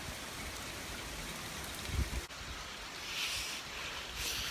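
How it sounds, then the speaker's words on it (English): Heavy rain pours down steadily outdoors near a creek and highway, a dense, loud hiss of drops hitting surfaces that continues without letup, with a brief thump in the middle. "It is pouring out here."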